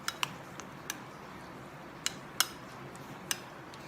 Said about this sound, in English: So that's the salt in and the lemon. I'm just going to mix it nicely.